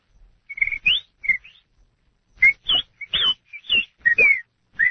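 A person whistles a rapid series of short, varied bird-like chirps and trills, mimicking a mockingbird, with brief pauses between bursts.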